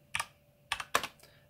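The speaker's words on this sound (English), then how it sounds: "so you can hear what I'm typing" A computer keyboard clicks as a command is typed into a terminal on an Arch-based Linux system: three quick, close keystroke clicks, clear and alone.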